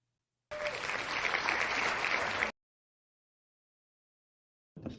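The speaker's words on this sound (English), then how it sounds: "let's get a round of applause" An audience at a small-business presentation applauds in a short, dense burst of about two seconds that stops abruptly, followed by silence and then a faint brief sound.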